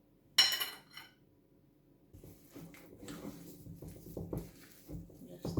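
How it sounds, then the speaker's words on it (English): Banana bread batter is stirred in a bowl, with a sharp clink of a utensil against the bowl at first, then soft, wet scraping and squishing strokes that come and go near the listener. "And we're going to stir this."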